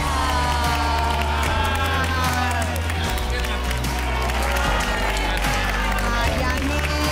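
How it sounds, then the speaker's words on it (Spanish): A television contest show studio audience gives a contestant loud, continuous applause with cheering, under music and a host's voice. "El fuerte aplauso es para ti"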